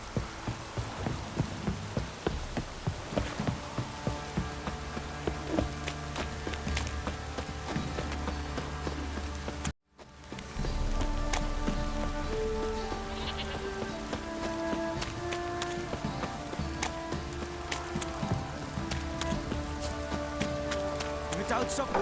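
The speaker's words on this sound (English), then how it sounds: "This downpour's a bastard" Steady rain patters on surfaces throughout in the video game The Witcher 3: Wild Hunt, with scattered drips and a brief dropout midway; faint bleats and other small sounds occur in the background.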